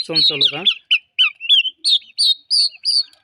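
About six-week-old turkey chicks calling, a run of short high chirping peeps repeated in a quick, regular series, close and clear against a quiet background, with a brief burst of mixed calls at the start.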